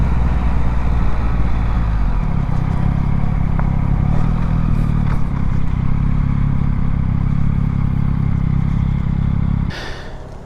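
Motorcycle engine, a 2021 BMW R nineT Pure, running steadily and loud throughout, with a rumbling idle that shifts and drops as the bike slows to pull off, then cuts off near the end.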